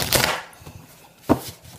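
Oracle cards being shuffled by hand, two brief dry riffling rustles close up with a soft knock between them, with no talking.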